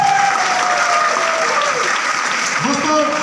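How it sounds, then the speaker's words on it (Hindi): Seminar audience giving a loud, sustained burst of applause, many hands clapping at once with voices faintly mixed in. "लिए जोरदार तालियां होना चाहिए।"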